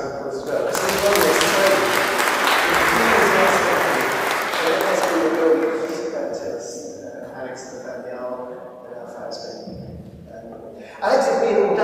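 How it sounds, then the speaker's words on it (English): A church congregation at a Sunday service gives a warm round of applause that swells, holds for several seconds and gradually dies away, followed by a voice speaking. "can we give Alex a round of applause as well?"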